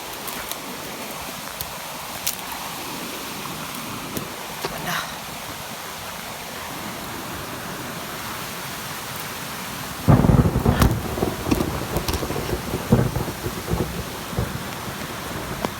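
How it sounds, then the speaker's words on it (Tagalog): Heavy rain pours steadily outdoors while thunder rumbles, with sharp nearby cracks and a loud crashing roll partway through that builds the downpour's intensity. "Sobrang lakas na talaga ng ulan."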